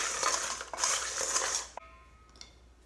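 Shrimp and crab marinade with peppercorns and pepper being stirred in a dish, a bright wet scraping swirl for about two seconds, then a spoon clinks against the dish and fades.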